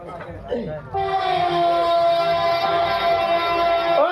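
A brief voice at the start, then a loud, sustained train horn blares close by for several seconds over rumbling rail noise.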